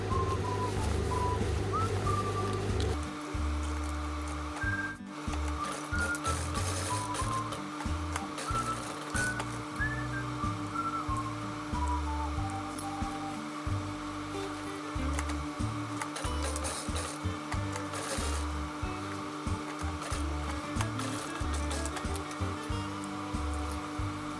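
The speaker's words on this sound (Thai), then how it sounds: "เดี๋ยวเรามาเย็บให้หมดทั้งสี่จีบนะคะ" A sewing machine stitches pleats on the waistband of a youth uniform skirt in short rhythmic runs, with brief pauses and a faint whining tone over the steady mechanical clatter.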